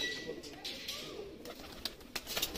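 Teddy pigeon, a male held in the hand at a loft, gives soft intermittent coos close by amid rustling and handling noise, with a few sharper clicks near the end.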